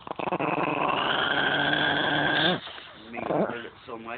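A dog makes strange, drawn-out growling noises, a long rumbling growl that breaks off into shorter, wavering groans and whines, all close by.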